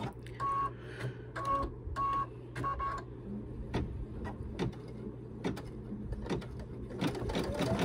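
An embroidery machine stitches the outline of a baby bee bib, giving short repeated bursts of whirring stitches followed by irregular louder clicks and mechanical taps, close by and steady in level, with no talking.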